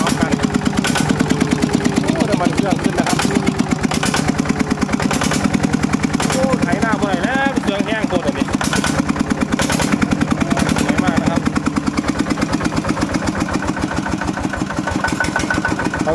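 A second-hand tractor's engine starts and settles into a steady, loud, close idle with a rapid chugging pulse throughout, while someone talks over it.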